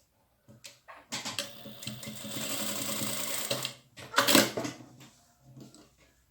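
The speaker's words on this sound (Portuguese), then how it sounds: "passo uma costura para prender" A sewing machine stitches fabric for a handmade makeup bag. It runs in a rapid, close, continuous chatter for a couple of seconds, then gives a shorter burst and a few brief runs.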